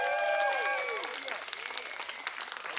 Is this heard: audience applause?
yes